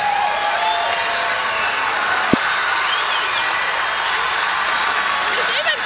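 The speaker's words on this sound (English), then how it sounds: "There's even crowd noise going through the PA" Recorded crowd cheering and applause play through the PA system at a band contest final, a constant wash of broadband crowd noise with a single sharp knock partway through.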